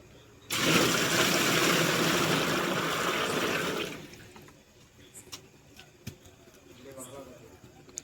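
Water pours heavily into a large cauldron for a few seconds for boiling paddy, then stops, leaving faint drips, clinks, and quiet room noise.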